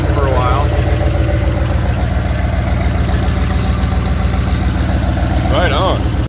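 A rough, steady engine of an old Dodge truck with a slight exhaust leak idles close by with a deep, uneven rumble throughout, briefly joined by a couple of short whirring chirps.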